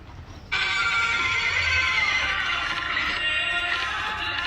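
After a short quiet start, a horse lets out a long, loud neigh. The whinny wavers and trails off, with faint hoof sounds underneath.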